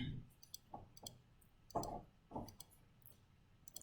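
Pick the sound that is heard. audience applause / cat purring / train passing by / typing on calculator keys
typing on calculator keys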